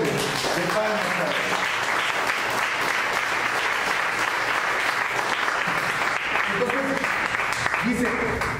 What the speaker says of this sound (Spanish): Luego una ofrenda fuerte de palmas.